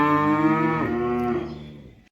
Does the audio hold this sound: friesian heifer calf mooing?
yes